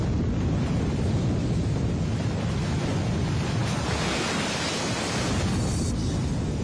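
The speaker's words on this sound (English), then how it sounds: "As the cofferdam crumbles, it unleashes the water stored behind it." Torrent of water bursting out as the Three Gorges cofferdam collapses, a loud, continuous roaring rush with no break across the whole stretch.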